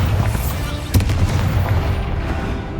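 A Bombarda blast spell in Hogwarts Legacy: one sharp booming burst lands early, then trails off into rumbling game ambience.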